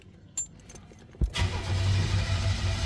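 A 1987 Buick GNX turbo V6 started with a push button and key, a couple of clicks and a quick crank, then the engine catches and settles into a steady, close, low idle.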